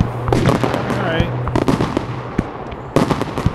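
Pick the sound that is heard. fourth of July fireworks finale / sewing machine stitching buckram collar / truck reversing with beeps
fourth of July fireworks finale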